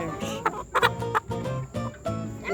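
Lavender Orpington and other hens in a homestead chicken coop cluck in short repeated bursts, close and fairly loud, with overlapping calls and no talking.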